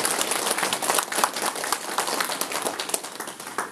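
Hall audience applauds to welcome a monk at an entrance ceremony for a Buddhist college at Samhwasa temple in Donghae. The clapping is dense and continuous, a full room of hands beating fast and fairly loud.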